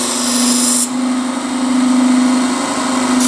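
Work Sharp electric knife sharpener grinding a blade held against its angle guide, a loud, steady motor whine with a continuous abrasive hiss that briefly shifts in tone as the blade is drawn through, no voices.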